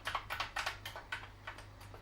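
Keys pressed one after another on a Commodore C64-C keyboard under repair testing, a soft, irregular run of plastic clicks, close and quiet with no voice over them.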